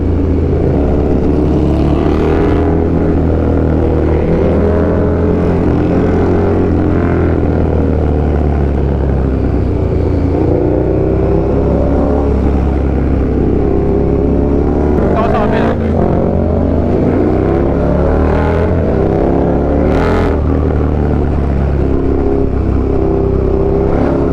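A KTM Super Duke motorcycle rides through a tunnel with the rider's visor open, engine held below 6,000 RPM: a loud, steady engine drone with rushing wind and slight pitch swells. The rider talks over it throughout.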